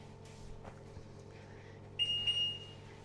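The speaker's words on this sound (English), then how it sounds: "It beeped." A quiet room hum, then a single electronic oven beep rings out for about half a second, clear and close.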